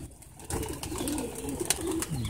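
Young pigeon chicks of high-flying breeds give soft, low coos at close range over a faint background hiss, with no talking.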